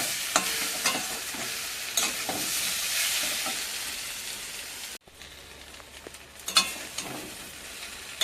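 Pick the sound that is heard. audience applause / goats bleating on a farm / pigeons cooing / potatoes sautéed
potatoes sautéed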